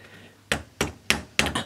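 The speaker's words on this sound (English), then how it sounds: "Bit of wood, put your tin on there, bit of metal, and out with the hammer." Sharp metallic hammer blows fold the edges of a tin sheet held against a piece of metal on a wooden block, four or five close, loud strikes in an uneven rhythm.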